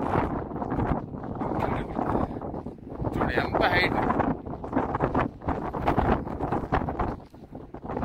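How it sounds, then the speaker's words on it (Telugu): Strong wind buffets the microphone on a hilltop near the Savitri Mata Temple in Pushkar, heard as loud, gusty rumbling bursts that rise and fall while someone talks over it. "గాలి విపరీతం"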